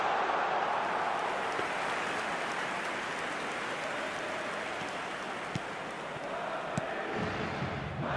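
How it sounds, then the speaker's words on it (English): A disgruntled stadium crowd in the football video game eFootball PES Mobile 2025 gives off a steady, broad roar of murmuring and jeering that holds at a constant loud level throughout, with no commentary over it. "Well, the crowd aren't happy."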